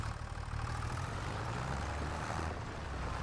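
Farm truck engine idling steadily, a continuous low rumbling drone at close range with no speech.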